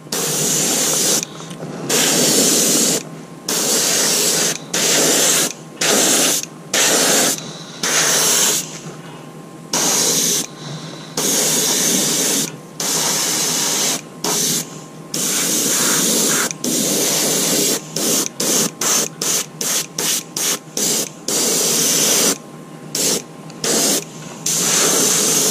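Airbrush or spray gun hissing in repeated bursts while a custom fishing lure is repainted, irregular spurts of varying length with a fast run of short puffs near the end, close and loud with no talk.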